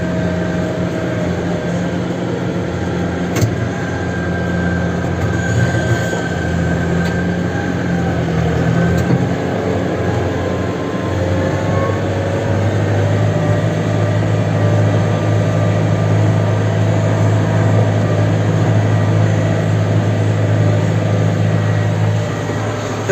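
A Kubota M108S tractor engine drones steadily while planting cotton in a field, a continuous close, loud mechanical hum with a slight shift in pitch partway through and no talking.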